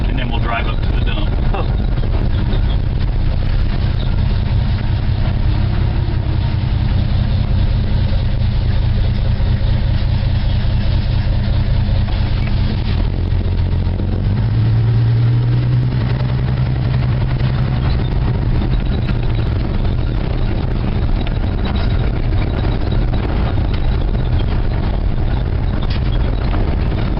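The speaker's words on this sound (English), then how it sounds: "And then we'll drive up to the dump." A 1972 Dodge D200 pickup truck drives toward the dump, its engine a steady, loud rumble throughout with a low drone shifting partway through, and people talk over it.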